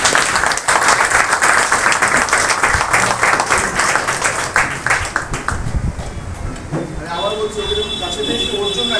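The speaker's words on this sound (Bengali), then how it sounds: "সবাই একটা হাততালি।" A crowd claps loudly and steadily for an honoree called up on stage at a gathering. The applause thins after about five seconds, and a faint tonal sound lingers at the end.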